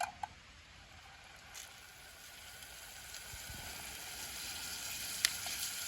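Cleaned fish frying over a campfire on a backcountry trail near Half Dome in Yosemite, giving a faint, steady sizzle with a few soft pops and crackles, no talk.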